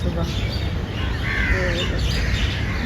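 Crows cawing and small birds chirping on a morning outdoors, the calls fairly clear over a constant wash of background noise, with a few distinct cries rising in the middle.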